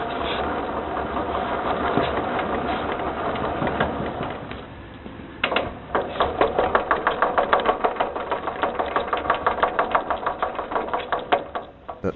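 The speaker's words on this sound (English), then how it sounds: "But makes a knocking noise when you push it backward." Worn transmission gears of an early Wheel Horse garden tractor knock in a steady, rapid rhythm under a running engine while it is pushed backward, close up and fairly loud.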